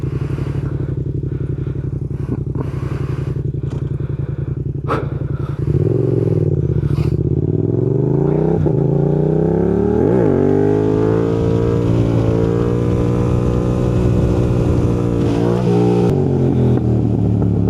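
Yamaha MT-07 motorcycle engine revving hard for a wheelie, loud and close, idling then rising sharply in pitch with repeated throttle blips and a sustained high rev toward the end.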